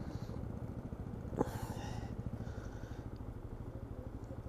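A scooter fitted with a very quiet exhaust idles nearby with a soft, even low putter that keeps a regular pulse throughout, briefly interrupted by one sharp clack.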